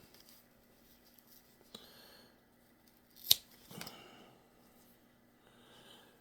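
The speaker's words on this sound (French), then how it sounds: "on va venir couper un autre touffe de poils de la base de la queue." A single sharp snip of scissors cuts a tuft of hair from the base of a tail while a pike and muskie lure is being tied. A softer rustle follows, and the rest stays quiet.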